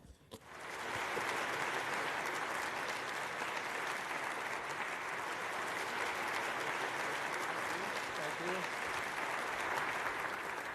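Applause from an event audience welcoming Walmart executive Lee Scott to the stage, a dense, steady clapping that swells within the first second and holds loud and even for about ten seconds without letting up.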